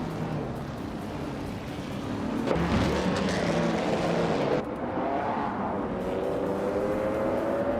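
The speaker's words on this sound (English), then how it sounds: "Jack Cinderbox is driving a 1952 Ferrari 375 Indy" A 1952 Ferrari 375 Indy race car engine in a racing video game roars steadily and loudly throughout, with rising engine tones as other cars pass, no talk.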